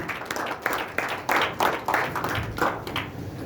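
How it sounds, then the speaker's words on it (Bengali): Audience applause at a training and strategy planning session in a hall, a dense patter of many hands clapping for a few seconds at moderate level, with some voices mixed in. "সকলের জন্য জোর হাততালি।"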